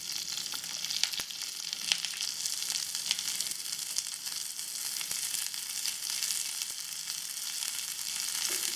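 Urad dal, garlic, curry leaves and onions sizzle steadily in hot oil, with a dense continuous crackle and occasional sharper pops for a spinach-stalk rice dish, no voices.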